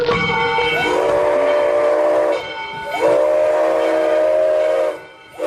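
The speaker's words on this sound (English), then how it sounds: "Steam powered railroad cars." A steam-powered railroad train sounds its whistle in two long, loud blasts separated by a short gap, with a third starting at the end, over steady rolling rail noise.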